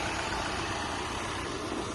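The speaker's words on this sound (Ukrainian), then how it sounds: "Ось, двигун іде." A 2012 Volkswagen Crafter van's 2-litre, 163-horsepower diesel engine idles steadily up close, a constant low rumble and vibration with no voices and no change in pitch.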